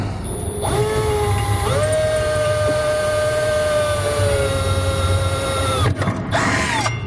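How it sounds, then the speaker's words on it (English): A power drill with a small bit bores a pilot hole up through the underside of a 2017 Chevrolet pickup bed during an underbed gooseneck hitch install, a loud sustained whine that runs steadily for about five seconds, then brief spurts. "I'm going to drill a pilot hole right up through the bottom of my bed."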